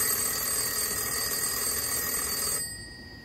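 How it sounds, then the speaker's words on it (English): The bell ringer of a 1977 Citesa Heraldo telephone from Peru sounds as one continuous shrill metallic ring, close and fairly loud, that stops abruptly near the end and leaves a quiet room. "show what the ringer sounds like"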